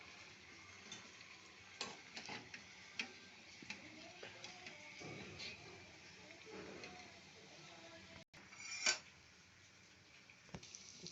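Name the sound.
tempering spices in hot oil for coconut chutney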